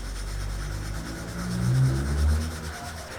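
Carved wooden printing block rubbed with 400 grit sandpaper to lift graphite marks, giving a steady close scratchy rasping that swells slightly in the middle, with no talk.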